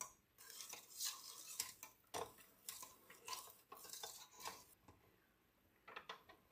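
A spatula scrapes around a mixing bowl of chocolate cake batter made with buttermilk, giving close, irregular scraping and clinking strokes repeated through the clip with no talking.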